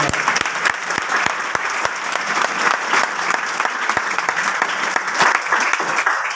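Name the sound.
audience applause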